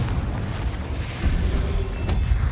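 A Confringo blasting spell explodes in the Hogwarts Legacy video game, a deep rumbling boom with a burst of crackling noise, loud and low, swelling briefly midway before fading.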